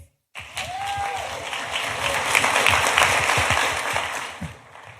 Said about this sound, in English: While you're clapping